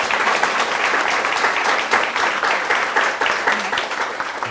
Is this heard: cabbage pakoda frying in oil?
no